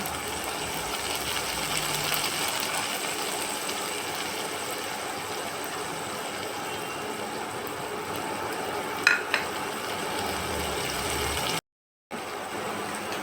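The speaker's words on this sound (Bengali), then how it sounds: "আমি চারটা চিংড়ি মাছ একই সঙ্গে আমি ভেজে নিব।" Shrimp and noodles fry together in a pan for spicy shrimp noodles, giving a steady, moderate sizzle that runs throughout with a brief clink near the end.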